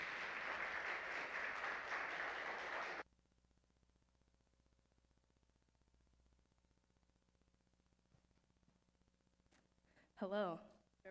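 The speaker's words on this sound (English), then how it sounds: "So if we can give a round of applause for our dear sister Caroline as she comes," A church congregation at a Sunday service gives a round of applause, a dense loud wash of clapping for about three seconds that stops abruptly, then near silence before a brief voice near the end.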